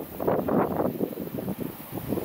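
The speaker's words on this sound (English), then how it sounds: "Pause for a sec while the wind blows" Wind blows outdoors in steady, loud gusts with rumbling buffeting against the microphone, continuing without a break.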